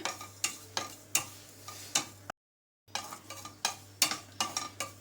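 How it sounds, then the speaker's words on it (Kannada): Separated pieces of tamarind, about a lemon's worth, roast in a pan, giving repeated soft scraping stirs and faint sizzling at a steady rhythm. A low hum runs underneath, and a brief silent gap breaks the sound partway through. "ಇವಾಗ ಒಂದು ನಿಂಬೆಹಣ್ಣು ಗಾತ್ರದ ಸೈಜ್ ಹುಣಸೆ ಹಣ್ಣು ಇಟ್ಕೊಂಡಿದ್ದೀನಿ, ಬಿಡಿ ಬಿಡಿ ಮಾಡಿ ಇಟ್ಕೊಂಡಿದ್ದೀನಿ. ಅದನ್ನು ಹುರ್ಕೊಳ್ಳೋಣ."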